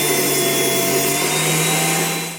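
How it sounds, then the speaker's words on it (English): A power saw rips pine boards lengthwise in a loud, steady whine with the rough hiss of the blade cutting wood, holding constant close up before easing off at the end. "So now I'm going to rip the pine boards down."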